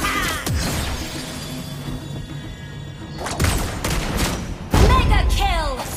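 Gunfire in a competitive shooter video game, with sharp shots and crashing impacts spread through the clip and a louder burst near the end, while voices and game effects run underneath.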